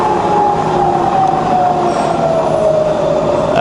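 A rebuilt Bridgeport milling machine with a 42-inch table runs its spindle at 300 RPM, giving a loud, steady mechanical whine with a humming tone that drifts slightly lower, with no talking.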